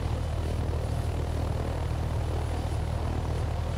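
A helicopter in a flight simulator game gives a steady, loud low thrum of rotor blades chopping with dense engine noise, the rhythmic beating constant throughout.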